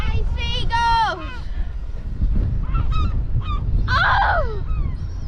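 Seagulls call in loud, harsh squawking bursts near the start and again toward the end, with people talking and shouting throughout during egg rolling on Peel hill, Isle of Man.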